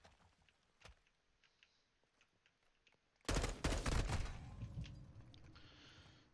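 Sudden burst of rapid automatic gunfire in Call of Duty Modern Warfare 2, loud and dense after a quiet stretch of faint game ambience and a few distant shots, continuing with rattling bursts to the end.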